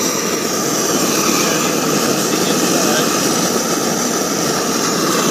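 A propane burner firing a portable flat-pack fiber kiln during a pottery bisque fire, a loud, steady roaring rush of flame holding constant with no breaks.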